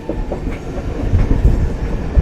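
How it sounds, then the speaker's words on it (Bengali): An inaugural train runs along newly opened track near Jairambati station in Bankura, a loud, close rumble with rhythmic wheel clatter and no voices. "ট্রেন এখন এগিয়ে চলেছে"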